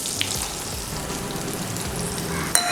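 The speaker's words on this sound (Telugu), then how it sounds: "ఎంత చట్నీ అయితే అవసరమో అంత చట్నీని తాలింపు వేసుకుందాము" Ground red chilli chutney dropped into a hot tempering of oil and curry leaves, sizzling and spattering steadily and up close for a few seconds with a small clink near the end.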